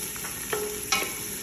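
Onion and garlic sautéing in olive oil in a pot on the stove, a steady close sizzle broken by a couple of brief stirring scrapes.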